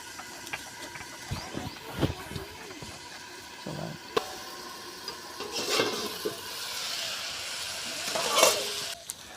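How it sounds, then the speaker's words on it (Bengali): Potatoes fry in a pan, giving a low, uneven sizzle with scattered clicks and scrapes of stirring, swelling louder near the end. "আলুটা আমার ভাজা হয়ে গেছে"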